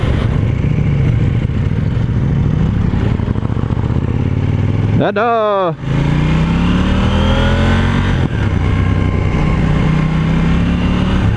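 A KTM 790 Duke motorcycle engine accelerates hard, its loud, close exhaust note rising in pitch through several gear changes, with a brief shift gap midway and continuous wind and road noise throughout.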